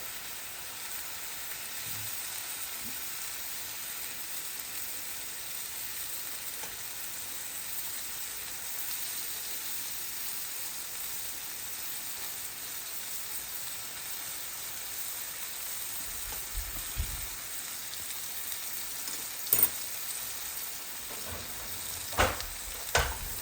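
Garlic butter frying steadily in a pan beside sous vide pork chops, a constant close hiss and crackle with a few sharp utensil clicks near the end and no talk.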